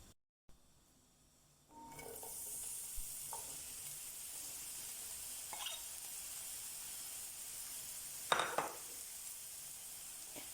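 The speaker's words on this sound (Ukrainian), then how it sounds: "обсмажуємо на рослинній олії до м'якості цибулі" Quiet at first, then a hiss of diced onions and button mushrooms frying in vegetable oil starts and holds steady, broken by a few scrapes and a louder clatter near the end.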